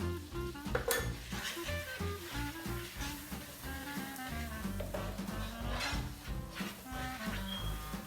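A utensil scrapes and clinks steadily against a pan while flour is stirred into an olive-oil sauce for creamy vodka chicken pasta, with faint sizzling beneath the repeated metallic strokes.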